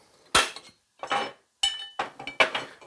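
A hammer strikes a center punch on a metal gate cap to mark drilling points: five sharp, ringing metallic taps in an uneven rhythm, close and clear, with short silences between them.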